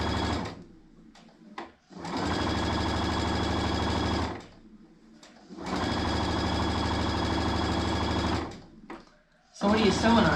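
A sewing machine stitching quilt strip sets with a quarter-inch seam runs in two long, steady bursts of several seconds each, separated by brief pauses, with a short start of stitching at the very end.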